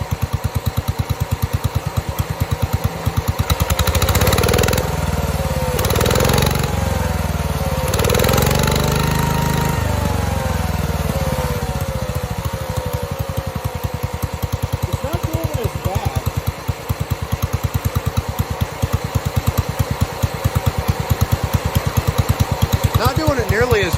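A 1969 John Deere 112 garden tractor engine runs steadily and loudly close by, a continuous rough mechanical drone with louder surges early on, while a person speaks over it.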